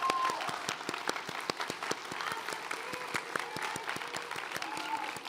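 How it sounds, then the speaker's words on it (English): A graduation crowd gives school administrators a round of applause, heard as faint, distant clapping with distinct individual claps over a soft roar of the hall. "Administrators, let's stand up and give you a round of applause"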